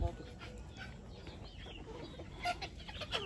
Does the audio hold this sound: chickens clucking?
yes